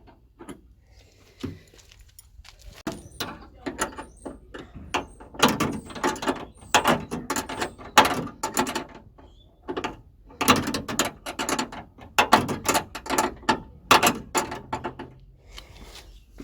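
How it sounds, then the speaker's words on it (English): Bolt being tightened on a door handle of a 1977 Corvette C3 with a 7/16 wrench: a close run of metallic clicks, ratcheting and rattles in irregular bursts, with no talking. "Now, just to tighten the handle up in here, it's a 7/16 bolt."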